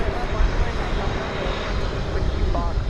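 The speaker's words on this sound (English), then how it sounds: "That appears to be American Flight 1965." An American Airlines plane at DFW Airport gives a broad, continuous engine roar, steady and fairly loud, with a voice talking over it.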